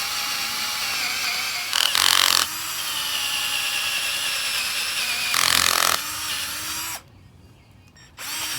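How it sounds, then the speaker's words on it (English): A power drill with a 9/16 bit bores into a solar panel stand, running as a steady whine with two brief louder bursts partway through and a short pause near the end before it starts again. "Hopefully this bit will be big enough. It's a 9/16 bit."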